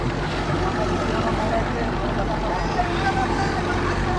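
A fishing boat at sea on a deep-water prawn trip gives a loud, continuous engine drone with wind and water noise, steady throughout, while people talk over it.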